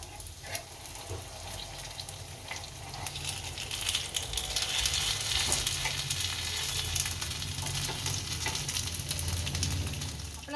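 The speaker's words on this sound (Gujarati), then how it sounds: "વડા સારી રીતના તળાઈ ગયા છે." Sabudana vada sizzle steadily in hot oil, a continuous loud frying hiss with faint clicks that stays constant throughout, with no talking.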